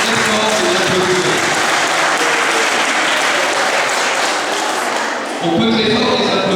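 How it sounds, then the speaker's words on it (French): A crowd applauds coaches at a sports gathering, dense clapping under someone speaking over a microphone, with a brief dip near the end before the clapping resumes. "moi je voudrais qu'on applaudisse les entraîneurs parce qu'elles ont fait un très très gros travail"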